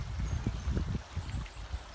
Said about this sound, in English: Lovely little creek running through the property.